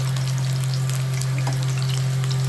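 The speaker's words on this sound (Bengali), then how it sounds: "আমি এখানে কিন্তু আলুগুলো আগে ভেজে নিচ্ছি" Cut potatoes fry in hot oil in a pan, giving a loud, steady, close-up crackling sizzle that runs the whole time over a low constant hum, with no voices.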